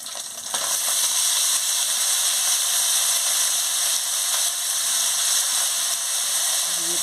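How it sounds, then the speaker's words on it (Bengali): Green chili, potato and onion fry in a pan, giving a steady, loud, close sizzle that holds evenly from start to finish with no talking. "কাঁচা লঙ্কা, আলু, পেঁয়াজ একটু দিয়ে দিচ্ছি।"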